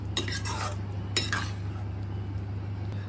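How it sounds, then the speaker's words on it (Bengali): A spoon stirs butter garlic prawns with red chili flakes and oregano in a pan, giving two clear metallic scrapes and clinks over a low steady hum, then a quieter stretch. "এবার সমস্ত উপকরণ দিয়ে ভালো করে মিশিয়ে নিচ্ছি"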